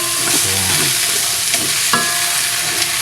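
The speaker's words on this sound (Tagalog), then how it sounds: "Saka natin ilalagay yung repolyo. Haluin lang natin guys para magisa." Chayote and cabbage stir-fry in a hot pan, a loud steady sizzle broken by scraping and clinking of a utensil stirring the vegetables, with no speech.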